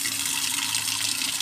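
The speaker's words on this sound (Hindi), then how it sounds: "गिरा देना पानी।" Water pours steadily out of a clay pot being rinsed, a continuous loud splashing stream with no pauses and no talking.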